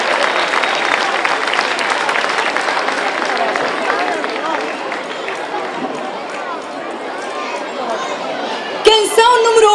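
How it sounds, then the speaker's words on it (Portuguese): An audience at a children's song festival bursts into dense applause mixed with cheering and chatter. The applause is loud at first, thins out over several seconds, and ends as a voice begins to speak. "Então eles não merecem uma salva de palmas?"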